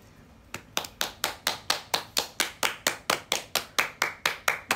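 Sudden clapping during a SHOWROOM livestream by NMB48 members, a few hands beating a steady, even rhythm of sharp claps close to the microphone after a quiet start.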